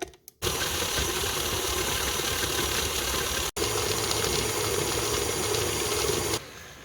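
A stand mixer's paddle creams butter and brown sugar for cinnamon roll dough, its motor giving a steady, loud whirring drone that runs for about six seconds with one momentary break, and no voices.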